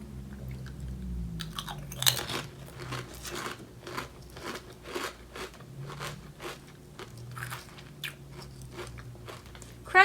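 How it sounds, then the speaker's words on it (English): Miss Vickies sweet and spicy ketchup potato chips being crunched and chewed, a steady run of crisp bites and crackling close to the microphone, fairly quiet, with no talk over it. "Crunchy, ketchupy, vinegary, any spice though."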